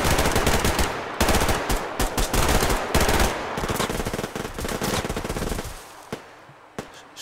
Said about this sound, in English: I'm actually being shot.